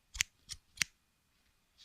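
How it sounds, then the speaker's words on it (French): Scissors snip through cardboard in three crisp close cuts in quick succession, followed by quiet and a fainter fourth snip. "vous allez prendre vos ciseaux"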